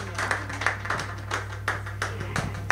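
Audience clapping at a karaoke contest, a moderate patter of hands with uneven bursts, over a steady low electrical hum and faint voices.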